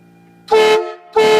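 Train horns mounted on a car blare in two loud, close blasts, each about a quarter second long and separated by a short pause, with a low idle hum underneath.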